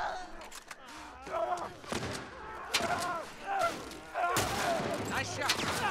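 Gunfire in The Last of Us Part I, with sharp shots cracking over game dialogue and a rumbling ambient soundtrack, several bursts spread across the scene.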